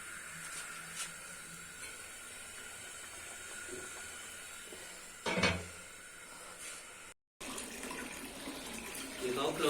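Open borewell water running over spinach being washed in a Pakistani village kitchen, a steady faint splashing hiss of flowing water with a brief louder splash midway and a short break.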